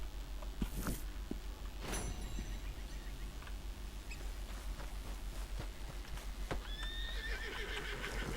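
A horse in the Red Dead Redemption 2 video game gives a loud whinny, then clip-clopping hooves continue over a steady outdoor ambience, with a second brief whinny near the end.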